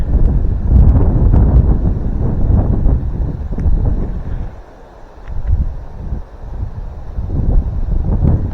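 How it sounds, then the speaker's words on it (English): Strong wind buffeting a camera microphone at a pond bank, a loud continuous low rumble that briefly eases before gusting back up. "Windy, windy, windy. I got to turn like this so the camera's not in the wind."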